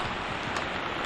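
Heavy typhoon rain pours down over a flooded farm plot, a constant dense hiss of drops striking water and leaves, loud and unbroken.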